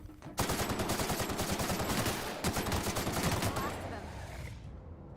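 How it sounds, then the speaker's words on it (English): Rapid automatic gunfire in The Outer Worlds, fired down a hallway: a loud, dense burst of rattling shots lasting several seconds, briefly broken midway, then tailing off into fading echoes. "Shooting down a hallway."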